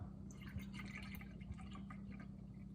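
A third of a cup of almond milk pours into a measuring vessel, a quiet trickling and dripping liquid sound heard close up with no voices.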